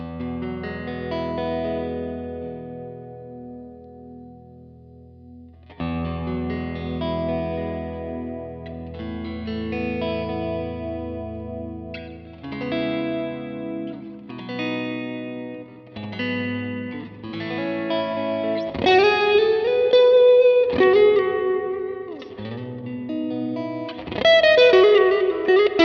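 Universal Audio Golden Reverberator pedal on its ambient reverb channel C, with guitar chords and notes blooming into long, washy reverb tails that swell and overlap through a continuous, fairly loud passage with no talking.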